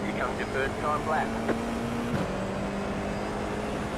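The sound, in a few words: Formula race car engine in Le Mans Ultimate video game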